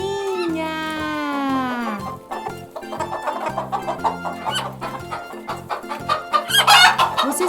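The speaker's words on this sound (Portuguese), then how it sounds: "É a galinha!" A farm chicken cackles, opening with a long drawn-out rooster crow followed by a run of rapid, close, loud clucks, over a light backing beat.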